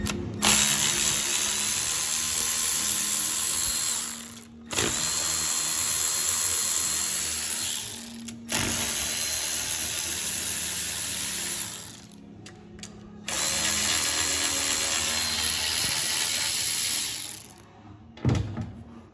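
A ratchet wrench backs out 8mm bolts on a Chevy Silverado truck transmission, giving loud, close, rapid ratcheting clicks in long continuous runs separated by brief pauses.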